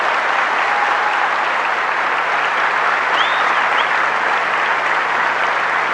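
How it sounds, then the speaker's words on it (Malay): Sustained audience applause at a motivational talk, a dense steady roar of many hands clapping at full strength throughout, with no one speaking over it. "Tepukan untuk anda semua."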